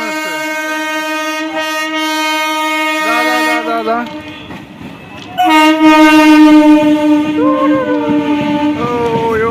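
A train passes close at a large festival gathering in West Bengal, sounding its loud multi-tone horn in two long blasts with a short break between, while people talk nearby.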